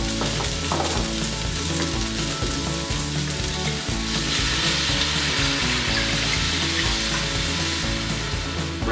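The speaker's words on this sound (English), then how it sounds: "And now, let's add in the stock." Gumbo stock hits a hot pot and sizzles loudly, a dense steady frying hiss with bubbling and some stirring clatter, close and continuous throughout.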